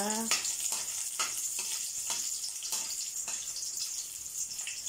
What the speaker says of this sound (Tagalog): Ayan, pinirito na natin siya.